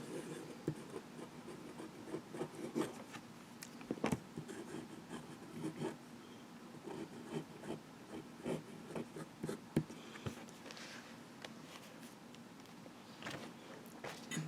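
A Lamy fountain pen with a wet medium nib scratches across paper in quick, close strokes, soft scribbling with small taps and pauses throughout.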